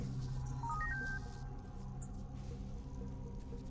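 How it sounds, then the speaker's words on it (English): A mobile-phone-style ringtone melody from the Halo 3 ODST video game chimes through several rising tones over steady game ambience and low rumble, fairly prominent and alone. "it's not my phone going off, right? Because my phone has the exact same ringtone."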